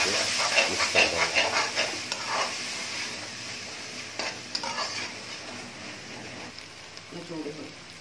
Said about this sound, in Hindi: ये अपना हम मिर्चा टमाटर और अदरक का पेस्ट पा देंगे, तो जल्दी जल्दी जल्दी ला के मिक्स कर देंगे।